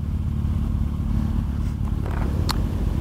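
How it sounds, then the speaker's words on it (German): A motorcycle exhaust running without its dB killer drones loud and steady throughout, a deep continuous rumble from close up on the road with a faint clatter and a brief high chirp near the end. "Hörst du eigentlich meinen Auspuff vorne?"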